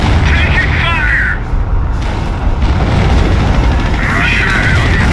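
Gunfire and artillery booms in the World War II strategy game Company of Heroes, a dense, loud, continuous wash of battle noise with rumbling low impacts throughout and game voices calling out over it.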